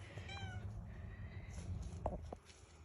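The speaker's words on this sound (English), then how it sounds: "Kitty." A cat meows a few times in an outdoor natural setting, fairly close but moderate in level over a steady low rumble of background noise, with a brief higher call near the start.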